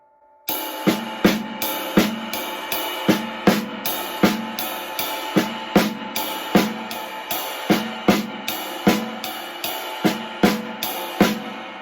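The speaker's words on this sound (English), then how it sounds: "we're putting the snare in the middle partial of the triplet." A drum kit plays a steady triplet pattern, with the snare falling on the middle partial of each triplet, crisp cymbal and drum hits repeating evenly for about eleven seconds, close and alone.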